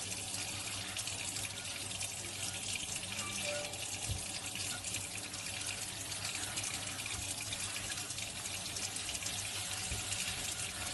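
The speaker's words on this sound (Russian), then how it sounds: "Еще раз ополаскиваю водой" Cold tap water runs steadily into a sink as dishes are rinsed, a continuous splashing gush with no voices.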